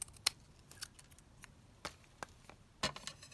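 Scissors snipping through printed paper background for vintage-style tickets, a few sharp, close, quiet cuts spaced irregularly with silence between.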